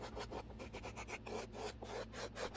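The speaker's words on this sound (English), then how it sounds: "If you ever need to smooth out a large portion of wood much faster and with much better results than sandpaper ever could, get yourself some scrapers." A hand scraper smooths the wooden back plate of a handmade violin, rapid rhythmic rasping strokes, about five per second, close and even, with no speech.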